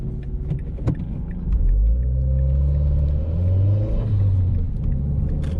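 A car approaches with a deep rumble that swells as it passes nearby, its engine tone shifting, then fades slightly at the end.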